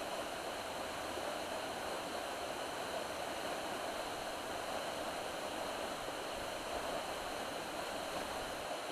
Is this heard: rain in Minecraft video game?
no